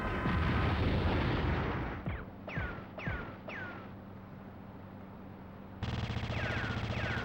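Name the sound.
rocket launcher fire blowing up a tank in video game Grand Theft Auto London 1969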